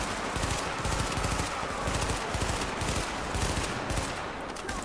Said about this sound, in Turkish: Dünyanın öbür ucundaki adamı vuruyorum inatla.